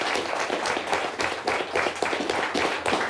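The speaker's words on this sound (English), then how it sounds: "a round of applause for our champions of Season 10" A studio audience at a televised school quiz championship applauds the season's winning team, with steady, fairly close clapping from many hands throughout.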